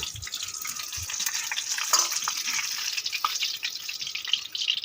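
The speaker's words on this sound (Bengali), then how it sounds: "পিঠেগুলো ভাজা হয়ে গেছে এখন তুলে নেবো" Onion kuli pitha cakes fry in hot oil with a soft, steady sizzle and crackle, a few faint clinks of a utensil against the pan, no voices.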